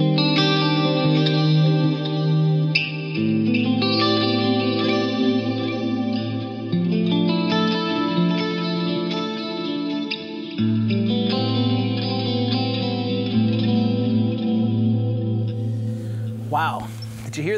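Clean electric guitar played direct through a DV Mark Multiamp, sustained chords and layered notes with chorus and echo shimmer, ringing steadily and close for most of the passage before a brief noisy burst at the end.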